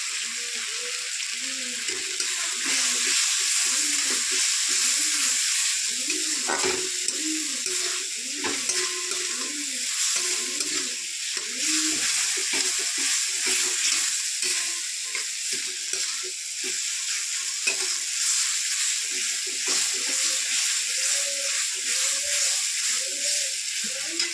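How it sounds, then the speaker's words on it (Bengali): Spice paste with onion, turmeric and salt sizzles in hot oil for a puti fish curry, a constant frying hiss broken by repeated scraping stirs of a spatula against the pan, close and steady. "আমার মশলাটা ভালোভাবে কষানো হয়ে গেছে, মশলা থেকে তেল ছাড়তে লেগেছে"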